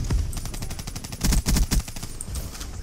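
Bursts of rapid automatic gunfire in Black Ops 3, a fast regular train of sharp shots that swells loudest in the middle, set against a continuous game background.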